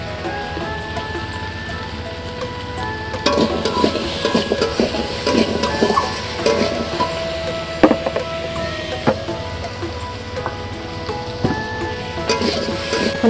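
Potatoes and pangas fish are stirred in a pan during a broth preparation, giving scraping and clattering utensil strokes with a steady frying sizzle, closer and louder in the second half.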